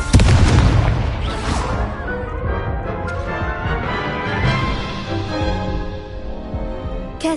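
Incendio fire spell blast in Hogwarts Legacy, a loud booming burst of flame up front that rumbles and fades over several seconds.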